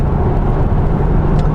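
A 2014 Audi A6 Allroad with a 3-litre diesel accelerating hard on an open stretch, a loud, dense low engine roar heard from inside the cabin, steady and sustained with no voices.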